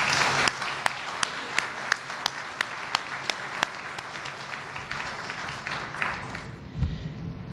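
Applause from an audience at a formal anti-corruption address, a spread of clapping with a few sharp claps standing out near the start, fading toward the end as a low thump enters.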